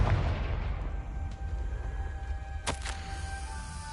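A Confringo spell goes off in the Hogwarts Legacy video game, a sharp burst about two thirds of the way in that rises over a steady low rumble and a constant game background hum.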